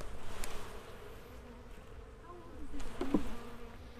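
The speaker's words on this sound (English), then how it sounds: "we're going to shake the bees off this frame." Honeybees from an overwintered hive buzzing steadily as they are shaken off a brood frame during a beekeeping workshop, a close, continuous insect hum with a louder swell near the end.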